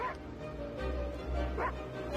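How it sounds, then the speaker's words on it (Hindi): A dog barks and yips in a Hindi-dubbed South Indian film scene, giving a few short, excited bursts spread across a couple of seconds over a low, steady background rumble. "माँ ये क्यों भौंक रहा है?"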